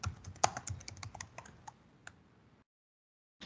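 Quiet keystrokes patter on a computer keyboard in an irregular burst of about two seconds, close and soft, ending in silence with one last faint tap.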